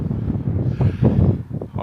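Wind blowing across an open North Yorkshire moor, buffeting the microphone with a steady low rumble and gusty swells throughout.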